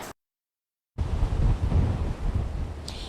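Strong wind outdoors in downtown Las Vegas, heard as loud, gusty microphone rumble and roar after a brief burst and near-second of silence, continuing steadily to the end with no speech.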